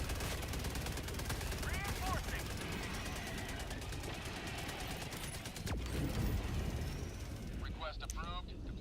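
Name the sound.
Gatling Sentry firing in Helldivers 2 video game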